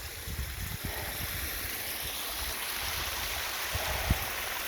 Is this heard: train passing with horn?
no